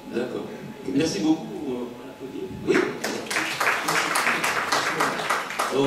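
Audience applause breaks out at a French theatre workshop, a dense patter of many hands clapping that swells and carries on while a voice talks over it.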